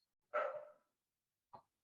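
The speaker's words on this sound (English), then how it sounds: "My dog is barking in the background." Two short dog barks, a fuller one followed by a brief sharp one a second later, muffled and faint against silence.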